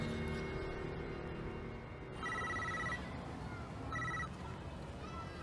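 A telephone rings in two distinct electronic bursts over a steady background of noise and low music, near and moderately loud.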